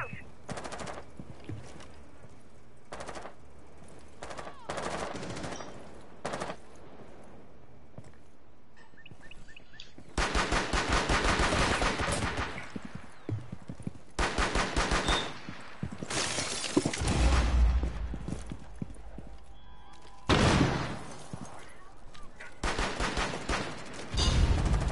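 Gunfire bursts in the tactical shooter Rainbow Six Siege come in several loud clusters of rapid shots separated by quieter gaps, with voices talking at times between them.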